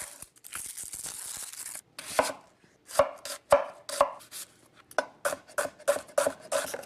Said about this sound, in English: I'm gonna chop my ingredients